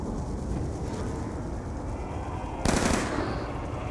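MTAR assault rifle fire in the video game Nuketown Zombies rattles in rapid continuous automatic bursts, dense and loud, with a sharper blast near the end over game background noise.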